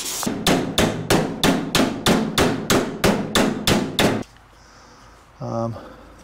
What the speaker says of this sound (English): So I kind of just tried to hammer these things out